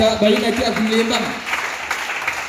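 Church congregation breaking into applause in praise of the Lord, the clapping heard beneath a preacher's voice and then tapering off.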